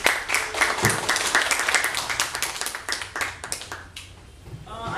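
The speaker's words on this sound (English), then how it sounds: "please a big clap for reading and writing, ideas and dialogue, books and thoughts" An audience claps together, a dense, fairly close burst of applause that holds steady for several seconds, then thins and fades toward the end.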